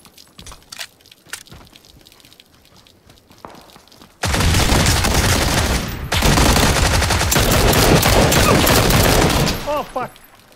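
Tommy gun fire in a video game: a few scattered shots, then long loud sustained automatic bursts with a brief break, dense and close, ending with a sharp tail.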